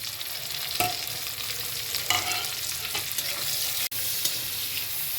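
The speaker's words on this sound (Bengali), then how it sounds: "পেঁয়াজটা একটু ভেজে নিতে হবে" Chopped onions sizzle steadily in a hot pan while a utensil stirs and scrapes them a few times, close and continuous.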